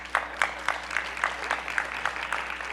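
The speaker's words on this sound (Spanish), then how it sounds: "un fuerte aplauso para ellas" Audience applause at a transport financial sustainability conference during a recognition presentation, heard as faint, fairly regular claps with a steady beat over a low room hum.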